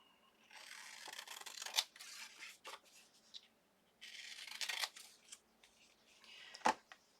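Scissors trimming a paper die cut, close and quiet, with a few bursts of rustling cuts and a couple of sharp snips.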